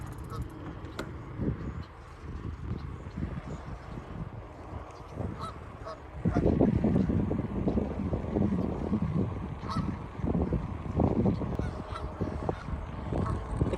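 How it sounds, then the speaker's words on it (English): A flock of Canada geese honks repeatedly, many overlapping calls that grow louder and busier halfway through, with outdoor background noise. "Canada gooses have descended upon us"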